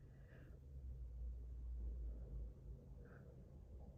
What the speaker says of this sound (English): If you hear cars outside, obviously it's outside.